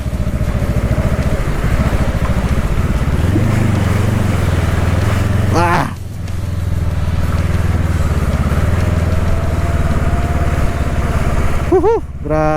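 Honda CRF dirt bike engine crossing a deep river with a strong current, a loud steady roar that drops and surges as the bike pushes through the water, with people cheering nearby.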